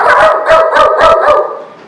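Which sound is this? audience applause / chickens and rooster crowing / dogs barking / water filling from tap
dogs barking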